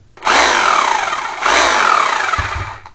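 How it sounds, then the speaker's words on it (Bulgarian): An electric drill with a suspected fault in its hammer setting whirs up to speed in two close, loud bursts, each whining steadily before winding down, with a brief clunk at the end. "Включвам бормашината в електричеството и ще направим тест."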